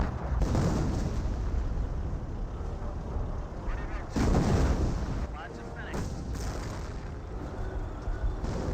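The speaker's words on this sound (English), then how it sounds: "Now it's time to barrage the Hummel's last known location." Artillery barrage shells land in Company of Heroes, with several heavy booming impacts spread over a busy battlefield bed of gunfire and rumble.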